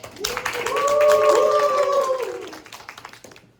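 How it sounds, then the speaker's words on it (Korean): Audience at a student-society seminar on clean code applauds in a steady patter of claps that swells and then fades, with a drawn-out vocal cheer riding over the middle. "박수"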